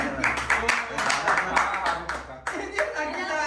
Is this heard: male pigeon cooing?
no